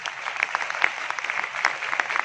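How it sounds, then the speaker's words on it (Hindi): Audience applause in a hall at a speaking event, a short burst of many hands clapping at moderate loudness, briefly and alone. "तो आप लोगों के लिए एक बार जोरदार तालियां"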